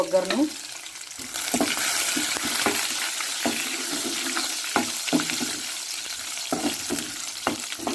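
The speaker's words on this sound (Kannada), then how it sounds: "ಈ ಒಗ್ಗರಣೆನ ಸಾರೊಳಗೆ ಹಾಕಿದ್ರೆ ಆಯ್ತು ನೋಡಿ" Garlic and curry leaf tempering frying in hot oil in a pan, a loud steady sizzle with scattered clinks of a spoon stirring, close up and without talk.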